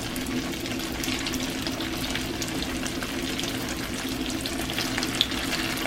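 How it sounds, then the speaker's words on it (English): Filipino lumpia deep-frying in hot oil until golden brown, a dense, steady bubbling sizzle held close and even throughout, with no voices. "the secret to cooking lumpia is you cook it until it is golden brown"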